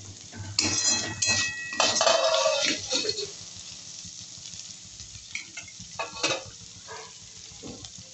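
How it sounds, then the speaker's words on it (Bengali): A utensil scrapes and clinks against a pot of nearly boiled vegetables as the lid is lifted and the contents are stirred, close metallic knocks at first, then sparser taps over a faint simmer. "আমি ঢাকনা তুলে একটু নেড়ে দেবো।"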